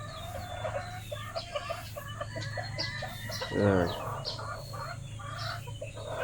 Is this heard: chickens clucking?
yes